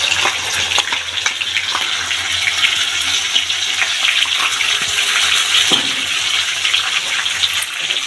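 Whole spices, green chillies and ginger-garlic paste fry in hot oil for chicken biryani, giving a continuous bright sizzle with occasional stirring scrapes, steady and close with no talk.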